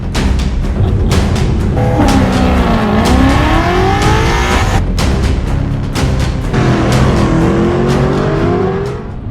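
A car towing a trailer drives along the road with a loud, steady engine drone that rises and falls as it revs through gear changes, heard close and continuously throughout.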